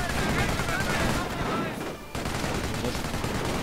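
Sustained gunfire from the World War II strategy game Company of Heroes, with dense volleys of rifle and machine-gun shots blending into a continuous battle din that dips briefly midway.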